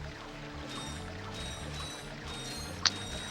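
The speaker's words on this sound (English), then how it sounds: "And down the waterfall we go." A rushing waterfall in the video game Ratchet and Clank gives a soft, steady wash of water noise at low level, with a brief sharp chirp near the end.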